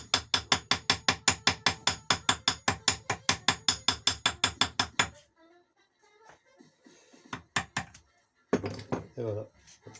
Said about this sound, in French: Vous tapez là, tac, tout doucement, pareil. Avec le marteau, bien sûr.